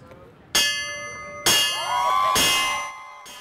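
A fire truck's metal bell rings in three sharp, loud strikes about a second apart, each leaving a long shimmering ring that decays between hits, with faint voices in the background.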